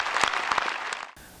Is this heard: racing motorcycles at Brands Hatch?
no